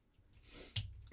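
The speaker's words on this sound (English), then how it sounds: "Ugh, sneezes." A single sharp sneeze bursts out partway through after a quiet lead-in breath, with a second short burst at the very end, close and moderately loud in an indoor card-making setting.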